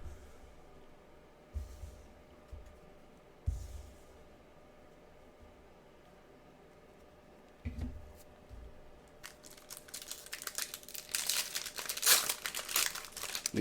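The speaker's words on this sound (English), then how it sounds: "we have a few other booster packs, so we're going to open those up" Foil Disney Lorcana booster packs are handled and torn open: a few scattered crinkles at first, then dense, loud crackling and crumpling of foil wrapper up close.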